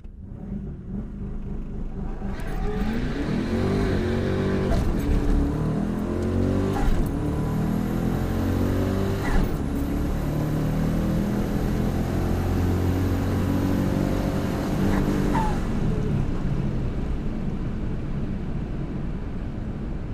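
A turbocharged car on street radials launches down a drag strip at a track night, its engine rising through several gear changes into a long, loud, sustained roar with turbo whine, then fading as it backs off, with no voices.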